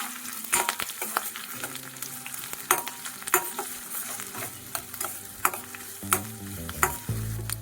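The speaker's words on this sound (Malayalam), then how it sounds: "ഇതൊരു ബ്രൗൺ കളറാകുന്നവരെ ഒന്ന് വഴറ്റണം." Sliced onions, chopped green chillies and curry leaves sautéing in a pan, a soft sizzle broken by scattered clicks and scrapes of a spoon stirring, close and quiet with no talking.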